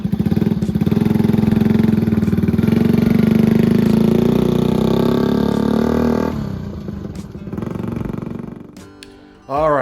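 A 1964 Honda Cub CA102 motorcycle runs with a close, steady putter of its small engine, a rising then easing tone, before dropping away near the end as a brief chirpy sound appears.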